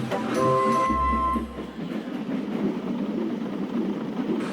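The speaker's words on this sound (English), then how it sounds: "Edward found it hard to start the heavy train." Steam engine straining to start a heavy train at a clay works, a low laboured rumble with a brief whistle-like tone early on, then steady chuffing noise continuing under a softer background.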